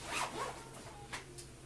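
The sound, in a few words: zipping up a safety bag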